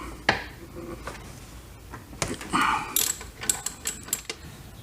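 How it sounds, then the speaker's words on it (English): Ratchet wrench clicking as bolts are loosened during block-off plate installation on a first-generation Yamaha FJR1300 motorcycle; short bursts of ratcheting with pauses between, close and moderately loud. "We'll now proceed to loosen the top bolt."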